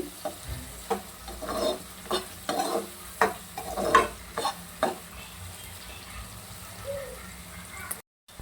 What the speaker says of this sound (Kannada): ಈಗ ನಾನು ಈರುಳ್ಳಿ ಬೇಗ ಬೇಯಲಿ ಅಂತ ಸ್ವಲ್ಪ ಉಪ್ಪು ಹಾಕೊಳ್ತಾ ಇದ್ದೀನಿ ಚೆನ್ನಾಗಿ ಫ್ರೈ ಆಗಲಿ